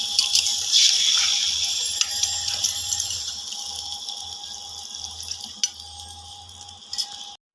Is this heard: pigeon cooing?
no